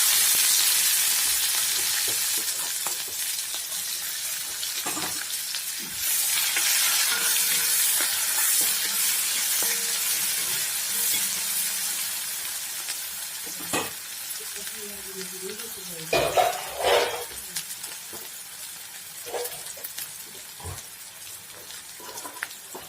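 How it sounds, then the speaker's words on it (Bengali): Chopped onion and garlic fry in hot oil in a kadai for a fish masala, a loud bright sizzle that gradually settles, with stirring clatter and a few sharp scrapes toward the end and no speech. "তেল গরম হয়ে গেছে, দিয়ে দেব কেটে রাখা পেঁয়াজ আর রসুন।"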